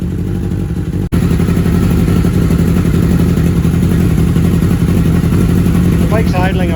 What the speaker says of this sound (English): The bike's idling a lot better than it was, generally running.